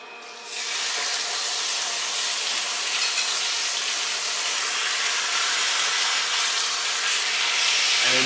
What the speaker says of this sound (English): My oil is hot. I'm gonna get my pork chops in.